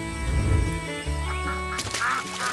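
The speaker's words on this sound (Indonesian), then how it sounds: "Os patos." Cartoon ducks quack in a burst of nasal calls over bright animated music, several loud quacks close together near the start and another flurry toward the end.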